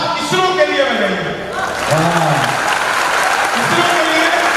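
An audience at a Hindi comic poetry event breaks into loud, dense clapping that swells in after a voice and then continues steadily, with speech faintly over it.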